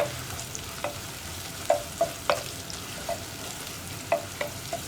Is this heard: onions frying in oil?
yes